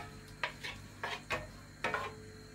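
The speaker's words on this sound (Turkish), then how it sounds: "Önce soğanımı güzelce rengi değişene kadar kavuracağım." Onions being sautéed in a pan, heard as a handful of quiet scraping and tapping stirs of a utensil against the pan in an irregular rhythm over a faint sizzle, with no talk.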